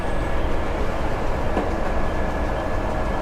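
A Metro Bus pulls away from a station in Islamabad on the Peshawar Morr to New Islamabad Airport route, a steady broad rumbling roar of moving vehicle with constant noise throughout and no voices.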